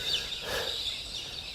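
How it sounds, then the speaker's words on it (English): Lorikeets and rosellas call around a garden raised bed, a dense wash of shrill screeching and chattering birdsong at moderate distance, steady and unbroken without speech. "We've got lorikeets, we've got rosellas"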